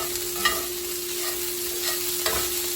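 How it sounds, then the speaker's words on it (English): Browned hamburger meat goes back into a hot pan for sloppy joes, giving a steady close sizzle broken by a few soft scraping stirs, with no talking. "We're going to add the hamburger back in."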